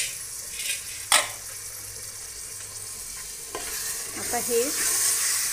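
Soaked chickpeas for chole masala sautéing in a pan, a low steady sizzle broken by a sharp clink and later stirring scrapes, close by, with a brief spoken word near the start.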